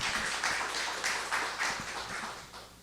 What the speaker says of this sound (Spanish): recibamos con un fuerte aplauso a Steven Arce